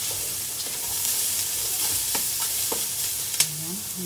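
Fatty pork pieces for Bicol laing sizzle in a pan, with a steady hiss near at hand, a few soft clinks of a stirring utensil and a brief squeak near the end, no voices.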